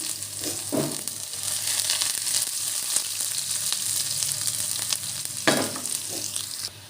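Cumin seeds and crushed garlic crackle and sizzle in hot oil as a tempering for gongura chutney, a dense, continuous frying hiss with small pops throughout, close and loud.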